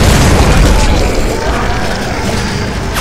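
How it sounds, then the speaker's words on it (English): A cannon blast in the Gears of War 3 video game booms loud and heavy at the start, its rumbling crash decaying slowly over three seconds with no clear speech. "Cannon!"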